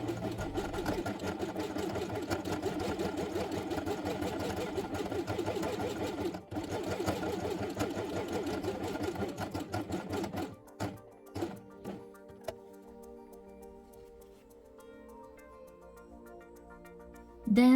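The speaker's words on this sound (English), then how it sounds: "sew on the machine along these 2 lines from here to this place and from here to this place" A sewing machine stitching two lines through felt with white upper and lower threads, running in a fast steady whir for about ten seconds, then stopping and starting in short bursts with clicks and thunks.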